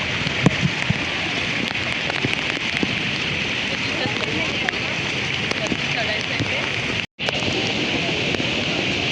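Steady heavy monsoon rain pouring down in thick fog on a hill fort climb, a constant dense hiss that barely varies, with a brief dropout near the end.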